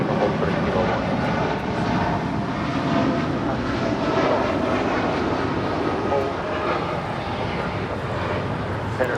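A Japan Airlines Boeing 787-8 Dreamliner departs Los Angeles International Airport, its jet engines producing a loud, sustained broadband roar that stays steady throughout.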